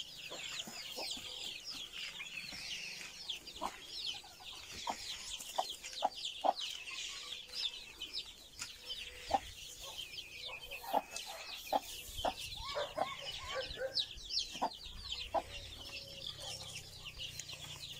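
Many chickens and chicks cluck and cheep continuously in a busy village coop, with scattered louder clucks over a dense chorus of chirping, close and lively throughout.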